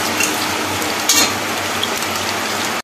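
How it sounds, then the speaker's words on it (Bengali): Potatoes fry in a pan with a steady, dense sizzle that holds evenly throughout, with a brief louder crackle near the middle before it cuts off abruptly. "আলুটাকে বেশ ভালো করে ভেজে নেব।"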